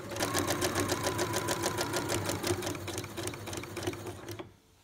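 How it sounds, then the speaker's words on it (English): A sewing machine stitches the final seam along the boning of a fabric bodice, a fast steady run of needle strokes with a mechanical hum, alone and fairly quiet, stopping abruptly at the end. "This is the final seam of the boning of the fabric bodice, so at the moment I could kiss the inventor of the sewing machine."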